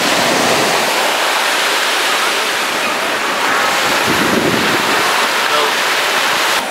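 Sea waves wash continuously over a sand wall on a beach, a steady broadband surf roar with wind buffeting the microphone throughout.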